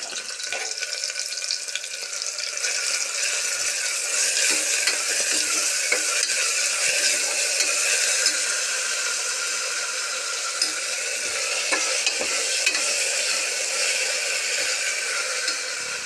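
Ground masala paste frying with onions for a village-style ghee rice bath, a continuous close hiss and sizzle with light stirring throughout, steady and unbroken, no talking.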